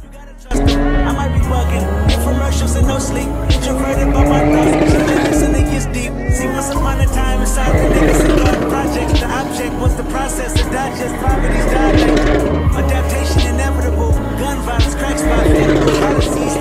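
A JZX car drifting at a university auto show, its tires squealing in long, loud screeches while the engine revs, with a crowd's voices and shouts mixed in around it.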